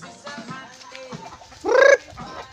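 Hens cluck softly at feeding time, then one gives a loud, rising squawk, close by and fairly brief.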